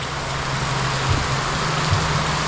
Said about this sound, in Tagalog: Yan po, lakas ng ulan.